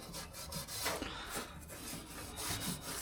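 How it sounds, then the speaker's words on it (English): A red Scotch-Brite pad rubbing down car bodywork, a close, steady abrasive scrubbing with back-and-forth strokes that rise and fall over a few seconds. "So we're just going to quickly give it a wee rub with some red Scotch Brite."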